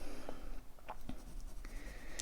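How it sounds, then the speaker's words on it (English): A graphite pencil held on its side shades across paper in steady, scratchy strokes, close and fairly quiet, with short pauses between passes. "I'm holding the pencil on its side."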